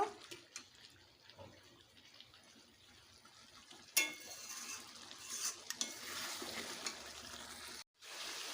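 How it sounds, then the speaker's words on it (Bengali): Goat mutton pieces stirred and sautéed in a pot, a steady scraping sizzle that continues throughout, with a sharp clatter midway and a brief drop to near silence shortly before the end. "মাংসগুলোকে এবারে ভালোভাবে কষে নেব"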